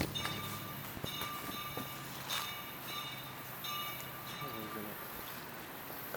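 A train rolls past on the tracks, heard as a fairly faint rumbling and clanking at a distance with a ringing tone on top, while people talk nearby.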